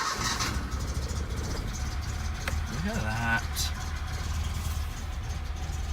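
An old Datsun engine on a cold day turns over and catches, then idles low and slightly uneven, with a rev or two, while someone talks over it close by.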